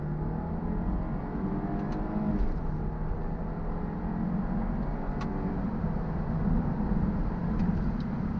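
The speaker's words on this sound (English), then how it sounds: "I'm driving in sports mode now. I'm just going to give it a quick squirt." A BMW 120i with a 2-litre turbo accelerating hard in sports mode, heard from inside the cabin as a steady, loud engine drone and road rumble throughout, with a few faint clicks.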